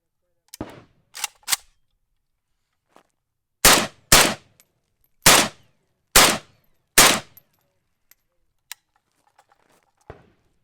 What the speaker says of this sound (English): I got 5 rounds to check the functionality of the rifle, make sure it's performing properly